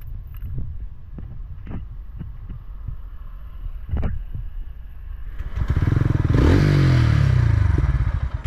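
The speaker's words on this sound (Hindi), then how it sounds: "अब मैं इस बाइक को आपको एक बार स्टार्ट करके भी दिखा देता हूं।" A TVS Ronin motorcycle sits near the mic with a few soft knocks and clicks, then its engine fires up and settles into a loud, steady thumping idle.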